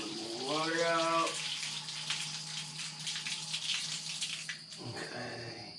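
Water runs steadily from a neighbor's dishwasher, a continuous hiss that carries on through the whole stretch, with a brief tonal whine at the start and a low steady hum underneath.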